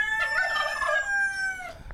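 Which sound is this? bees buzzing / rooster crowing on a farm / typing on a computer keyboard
rooster crowing on a farm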